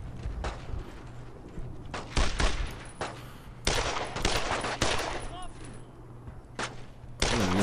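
Gunfire in Brothers in Arms: Road to Hill 30 cracks in sharp, loud bursts and single shots, spaced irregularly over a low battlefield rumble, with soldiers shouting between volleys.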